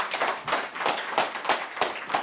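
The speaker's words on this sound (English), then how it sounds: "A round of Thank you. applause, ladies and gentlemen." A lecture audience claps briefly: a short run of separate, fairly quiet hand claps in a loose rhythm, about three per second, with no voices over them.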